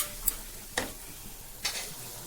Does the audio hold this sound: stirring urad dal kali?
yes